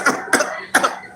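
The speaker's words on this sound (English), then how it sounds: "let me clear my throat" A person clears their throat in three short, raspy bursts, close and alone with no talk around them.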